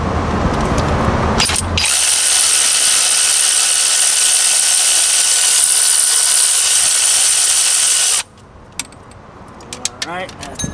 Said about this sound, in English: let's put the electric ratchet on it